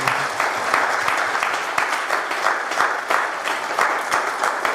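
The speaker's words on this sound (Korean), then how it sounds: "감사하는 박수를 한번 우리 셀장님들이 보내주셨습니다" Church congregation at a young adults' service applauding, a steady, dense wash of many hands clapping continuously and evenly throughout, moderately loud with no talk over it.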